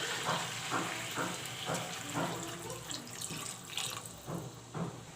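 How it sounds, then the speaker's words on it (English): Water trickles and splashes steadily from a tap into a cooking pot for a marinated dahi chicken dish, a close, continuous running flow with no talk. "now I'm going to put some water"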